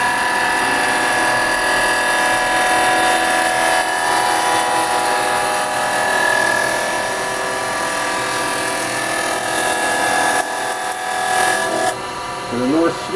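Carbide chisel cutting a small resin bowl on a woodturning lathe, a steady whirring hum with a continuous scraping hiss that holds level throughout, briefly interrupted near the end.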